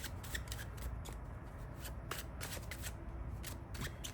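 Tarot cards are shuffled close to the microphone in quick riffling bursts, soft and crisp, over a faint room hush with no talking.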